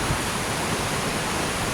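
River water rushing through a rock-cut channel at a salmon leap, a loud steady broadband roar with no pauses.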